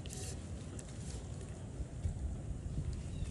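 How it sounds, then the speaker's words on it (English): Wind buffets the microphone outdoors with a continuous low rumble and rushing noise, steady and close throughout with no clear voices. "The wind's blowing."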